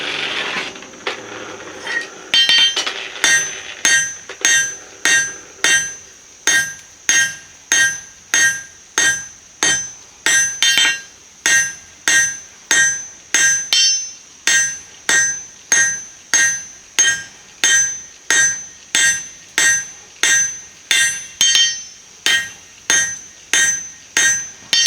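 Hammer blows ring out in a steady, evenly spaced rhythm, loud and close, as hot steel is forged and drawn out into a shovel hook.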